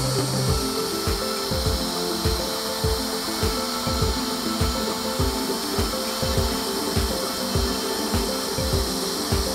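CNC machine cutting a simple wooden sign design with a non-carving bit, a continuous loud mechanical whine with rapid repeating rasping scrapes and knocks from the cutter on wood, close and steady, no talk.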